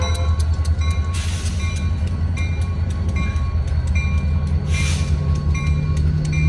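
A three-locomotive freight train led by an SD40 on the Cincinnati Eastern short line rumbles past close by, with a steady low diesel drone and occasional rail clatter, and no voices.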